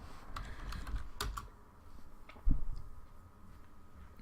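Typing on a computer keyboard: a short flurry of soft, close key clicks followed by a few scattered taps and one heavier keystroke, quiet, with no talking.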